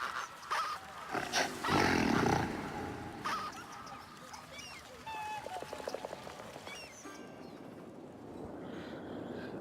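Monkeys call in a zoo park in the city-building game Cities Skylines, a run of squawky, chattering cries with a louder roaring burst early on, set against ambient park noise.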